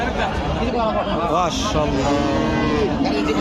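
Cows lowing at a busy rural cattle market in Bangladesh, several drawn-out moos rising over constant crowd chatter and voices nearby.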